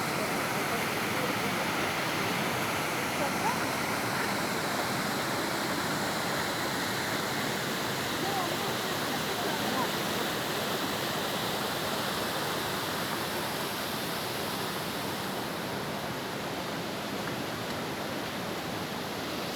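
Water from Düden Waterfall rushing steadily where it pours into the sea, a continuous broadband roar that stays even and fairly loud throughout with no breaks.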